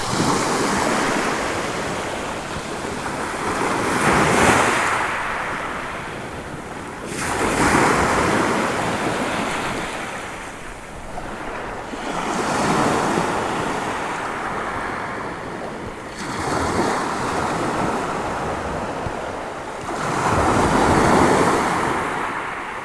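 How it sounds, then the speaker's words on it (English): Wind and waves on the coast at Withernsea in a light breeze, surf washing in repeated surges every few seconds with steady wind rush against the microphone, no one speaking. "Wind's going up a tiny bit. It's about 4 or 5 knots now."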